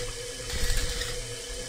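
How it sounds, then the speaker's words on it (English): Water runs steadily from a faucet in a horror video game, a constant broadband hiss with a brief fuller gush partway through, close and without talk. "Got to turn off the faucet."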